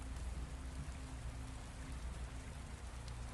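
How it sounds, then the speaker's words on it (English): Rain falls on concrete and glass in a city, a steady, soft hiss of drops that stays even and faint throughout with no voices. "The rain falls differently when you know what you're listening for."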